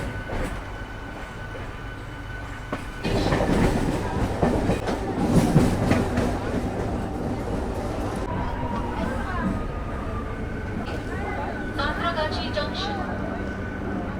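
A train at Santragachi railway station, rumbling and clattering steadily from fairly close with occasional squeal-like tones, as the sound swells after a few seconds and continues under crowd noise.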